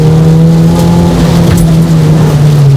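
A race car accelerates hard around a track, its engine revving loud and close with a strong, steady tone that rises slightly, alone without voices.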